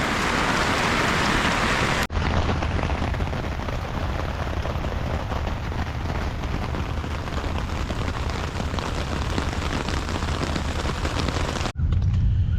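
Heavy rain drums steadily on a camping tarp during a windy, rainy night of stealth camping, a dense, loud hiss that briefly cuts out near the start and again near the end.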